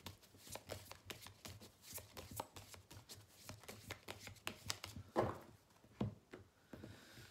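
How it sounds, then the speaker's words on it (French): Oracle cards from a Rock Love deck shuffled by hand before drawing: a steady run of quick, close riffling flicks and soft card slaps, with no talking. "je tirais quelques cartes de l'oracle Rock Love"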